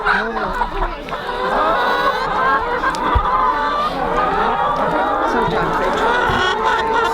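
Hens cluck softly and continuously, close by, as newly rehomed chickens settle in, with people murmuring and chuckling over the birds throughout.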